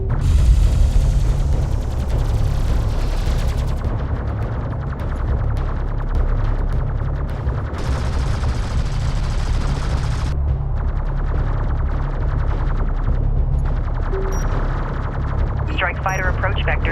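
Artillery and gunfire in a desert battle in the video game Homeworld: Deserts of Kharak, a dense, loud, continuous barrage of shots and booms with radio voices talking over it throughout.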